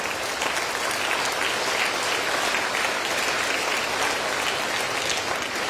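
An audience claps steadily in a dense, even wash of applause that runs throughout at a moderate distance, with no pauses or voices standing out.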